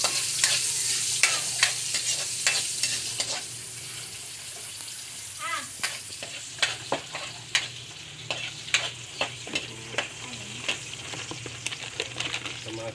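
Garlic and onion sautéing in a hot pan for an Ilokano vegetable dish, with a steady sizzle under repeated sharp scrapes and stirs of a utensil against the pan, close and fairly loud.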